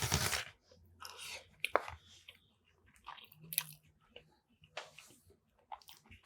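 Someone chewing the final bite of curry chicken in close, crunchy, wet bursts separated by short quiet pauses.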